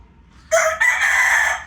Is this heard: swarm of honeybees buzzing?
no